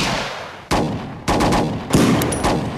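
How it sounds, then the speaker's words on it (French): Gunfire aimed at police in a film scene: several sharp, loud shots in quick irregular succession, each trailing into echoing noise, with no voices. "je crois que c'est des flics sur qui on tire"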